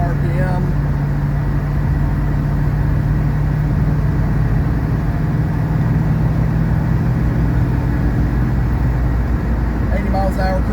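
A 1970 Buick GS with a swapped LS1 V8 cruises at highway speed, around 65 mph at roughly 2100 RPM, giving a steady low engine drone with constant road and cabin noise throughout.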